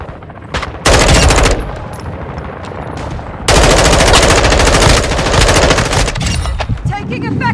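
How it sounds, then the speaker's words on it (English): Loud machine gun fire from the Modern Warfare II video game comes in two long, sustained bursts with a short gap between them, close and harsh throughout. "I'm taking effective fire."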